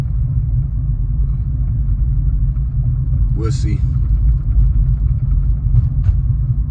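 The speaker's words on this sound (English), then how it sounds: "this car is making a lot of noise" A steady, loud low engine rumble fills the inside of a moving car with a noisy engine problem, with a brief spoken phrase heard over it.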